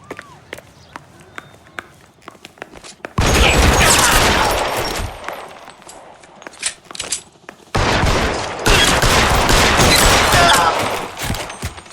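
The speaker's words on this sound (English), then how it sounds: "Shots fired." Gunfire shootout in the video game L.A. Noire: two long, dense volleys of rapid shots, each lasting several seconds, loud and close, with voices around them.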